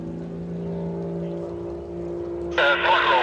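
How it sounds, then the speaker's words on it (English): A police motorboat engine drones steadily at a distance heading out at a beach airshow, then a burst of louder hissing engine noise rises near the end. "There's the police boat going out there."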